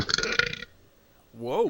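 A loud, close burp fills the first half second with a rough, gurgling rasp, followed by a short quiet stretch and then a voice exclaiming near the end.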